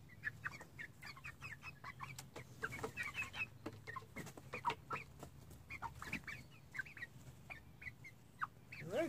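Several chickens cluck and chatter softly nearby, a steady overlapping murmur of short calls with no talking.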